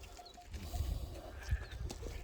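A goat bleats in short, close calls over a low, rumbling outdoor background, with a couple of brief wavering cries heard within a couple of seconds.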